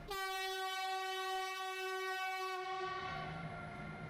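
A train horn blows a single long, loud, steady tone at a major Austrian railway station, holding for over two seconds before cutting off into the station's ambient rumble.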